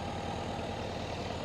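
A Kubota tractor idles while warming up near firewood work, its engine giving a steady, low, rumbling drone close by with no talk over it.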